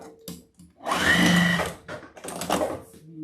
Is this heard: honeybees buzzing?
no